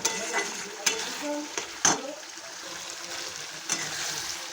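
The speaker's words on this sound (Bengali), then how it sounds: "ছোট পাউন্সের 1 প্যাকেট মিট মশলা আমি ভালো করে দিয়ে মিশিয়ে নিচ্ছি মশলার সঙ্গে একই সঙ্গে" A spoon stirs meat masala spices frying in a pan for a home-style red mutton curry, with sharp scraping strokes at intervals over a soft, steady sizzle, close and fairly quiet.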